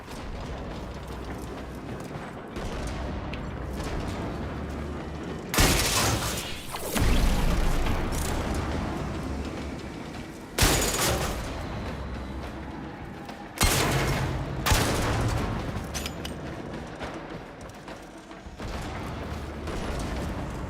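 Gunfire in the video game Warframe, loud bursts and sharp blasts repeating at intervals over a constant mechanical din, with heavy impacts punctuating the mix.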